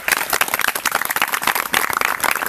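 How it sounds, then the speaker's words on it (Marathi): A college audience of teachers and students claps in a dense, brisk burst, with many hands striking at once in a crackling, uneven patter that continues throughout at moderate loudness. "एकदा जोरदार टाळ्या होऊ देत."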